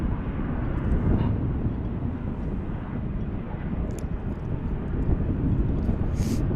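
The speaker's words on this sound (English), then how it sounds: "A little CRJ arriving in front of the giant A380." A small CRJ regional airliner arriving at DFW Airport, its steady low engine roar filling the scene continuously from start to finish, moderately loud and unbroken, with no talk over it.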